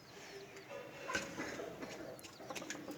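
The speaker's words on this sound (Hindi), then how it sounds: "ये हमारी मुर्गियाँ हैं।" Chickens make soft, scattered clucks and short calls at low volume, some nearer and some farther off, without any talking.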